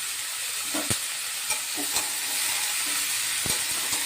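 Fried potatoes, jackfruit and chickpeas stirred in a pan, a soft steady sizzle with a few light scrapes and knocks of the spoon against the pan.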